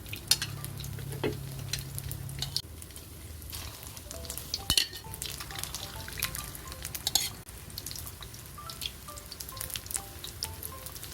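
Egg-dipped rice balls deep-frying in oil until crispy, a soft continuous sizzle and bubbling with occasional clinks of utensils against the pan, fairly quiet and close, no talking.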